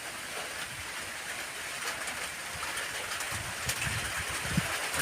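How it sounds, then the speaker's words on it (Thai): Wind-driven rain pours down steadily, heard from under a shelter as a constant broad hiss with a few soft knocks, and no distinct thunderclap. "ภาพบรรยากาศฝนตกและเสียงฟ้า เสียงฝนนะครับ"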